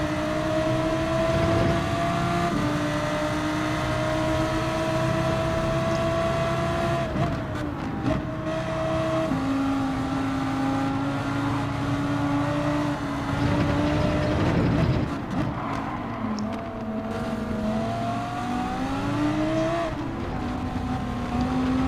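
Race car engines from Gran Turismo drone steadily behind a Lamborghini, several tones rising and falling with shifts and throttle changes throughout, loud and continuous.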